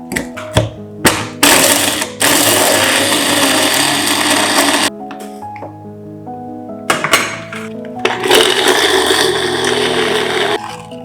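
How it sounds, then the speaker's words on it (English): A strong food processor grinds chunks of caramelized pecans into smooth nut butter, its motor roaring loudly in two long runs separated by a short pause filled with clinks and knocks. "Blend the nuts to smooth nut butter with a strong food processor."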